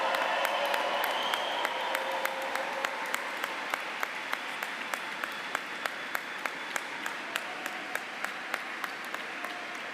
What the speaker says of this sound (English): Will you please clap, cheer, shout, whoop, whistle and thank them.